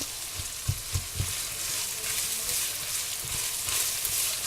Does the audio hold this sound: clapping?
no